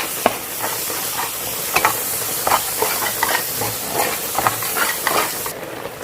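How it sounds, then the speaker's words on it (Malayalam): Chopped small shallots sauté in a hot pan for Kerala fish pollichathu, a steady close sizzle and hiss with scattered stirring scrapes and spatula clicks throughout, no talk. "ഞാൻ ചെറിയ ഉള്ളി കട്ട് ചെയ്ത് വെച്ചത് ചേർക്കുന്നുണ്ട് മൂപ്പിക്കാൻ വേണ്ടിയിട്ട്"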